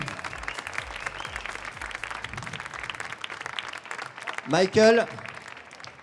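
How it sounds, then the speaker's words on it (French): Audience applause at the French coffee championships in Marseille, greeting the 20 World Brewers Cup candidates. Steady, moderate clapping runs throughout while a voice talks over it and a louder vocal burst rises near the end. "On peut applaudir ces 20 candidats."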